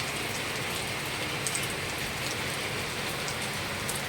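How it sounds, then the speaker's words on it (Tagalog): Steady rain falling on a surface, a dense even hiss with occasional louder drops, continuous throughout with no voices. "Umuulan po dito sa amin."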